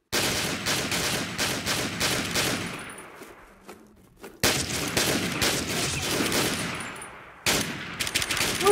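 Sustained automatic gunfire in the shooter game WARMODE, loud and continuous, broken by two brief pauses before each new burst resumes.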